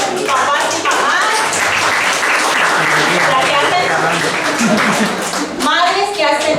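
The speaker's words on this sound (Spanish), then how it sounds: "Un aplauso para estas papás y mamás." Applause from a church congregation honoring fathers and mothers, steady loud clapping filling the room for several seconds, with voices and a child's chatter mixed in near the end.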